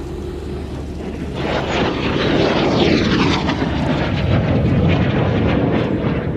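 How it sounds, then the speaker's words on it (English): A Folland Gnat T1 jet aircraft roars past in a display, its broad engine noise swelling and holding steady with a sweeping whine as it passes overhead. "from Chris Heames to finish his display on the Gnat display team's Folland Gnat T1"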